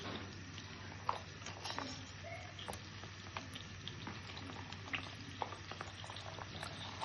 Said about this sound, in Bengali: তো এখানে আমরা দিয়ে দিব রসুন কুচি।